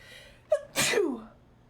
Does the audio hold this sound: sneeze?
yes